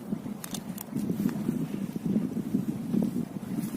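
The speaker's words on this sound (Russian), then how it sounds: "Начался попутный ветер." Tailwind gusting while kayaking on the Dniester river, a steady low buffeting rumble with occasional light splashes and clicks, continuous and close, with no voices.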